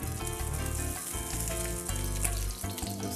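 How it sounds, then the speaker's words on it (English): Salmon with skin on frying in a pan gives a steady, close sizzle with crackling and popping throughout, louder than anything else and with no talking. "our salmon should be cooked now"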